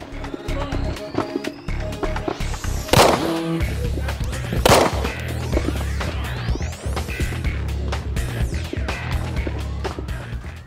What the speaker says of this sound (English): I'll put like another couple rounds into it